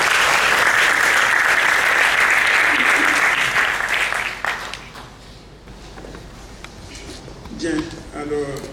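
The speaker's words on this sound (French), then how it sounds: "On va accompagner Denis avec les applaudissements." An audience claps at a French round-table conference, loud and sustained at first, then thinning out to scattered claps before a speaker starts talking.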